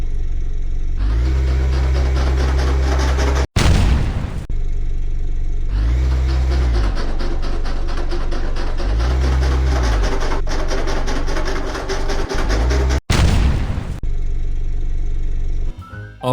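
A video game sound effect for a reversing-trailer game layers a droning truck engine with repeated rising and falling damage surges and sharp explosion bursts, loud and close, with no voices.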